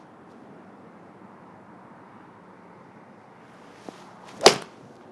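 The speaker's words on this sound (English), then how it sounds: "I'm going to try and hit the outside part of that golf ball" A single sharp crack of a golf club striking a golf ball, heard once near the end after quiet outdoor stillness, with a faint earlier tick.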